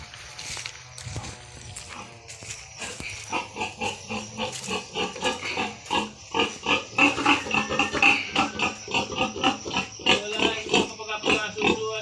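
The sow Mama Pig grunts repeatedly on a farm, with close rhythmic grunts and snorts building through the second half, alongside shuffling movement and faint background noise.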